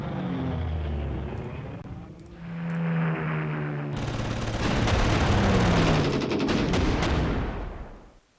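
Anti-aircraft gunfire rattles in bursts in the strategy game Panzer Corps as a bomber is shot down, with droning aircraft engines and dense repeated shots building to a loud crescendo, then fading out.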